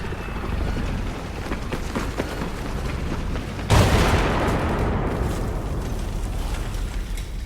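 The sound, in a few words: artillery shell explosion in a video game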